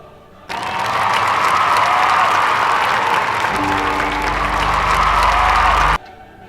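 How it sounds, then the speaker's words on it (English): Sustained applause from a film-scene crowd, steady and fairly loud from start to end, with a low rumbling tone entering partway through beneath the clapping. "And people still clap."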